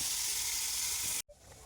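Bitter gourd and potato slices fry in a pan with a loud, steady sizzle. The hiss cuts off abruptly near the end and comes back as a much quieter, fainter fizz.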